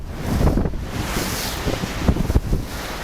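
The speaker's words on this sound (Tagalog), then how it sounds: "pero lumalakas na may hangin" Strong wind gusting at sea off Mindoro, buffeting the microphone in loud, uneven rushes over the steady wash of waves, with no voices.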